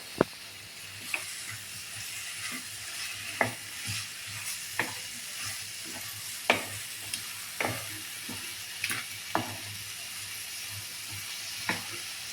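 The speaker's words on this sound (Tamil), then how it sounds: "இப்போ நான் கேப்சிகம் போட்டுக்கிறேன். இது கொஞ்சம் வாட்டணும்." Capsicum sizzling as it fries in a pan for capsicum rice, with a steady hiss broken by repeated clinks and scrapes from stirring, close and clear, with no talking.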